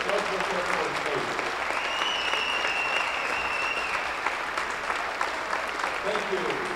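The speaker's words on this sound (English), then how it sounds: "how about a round of applause for our servicemen and women that are stationed at Ellsworth Air Force Base" Crowd applause fills a basketball gym before a double header, a steady broad wash of clapping that holds loud and even for several seconds, with a faint whistle or cheer riding over it and an announcer's voice heard at the edges.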